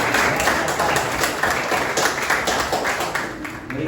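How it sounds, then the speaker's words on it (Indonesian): A classroom of students claps on the teacher's cue during a history lesson, a brisk, full burst of many hands lasting around four seconds with a slight murmur underneath. "oke, beri tepuk tangan."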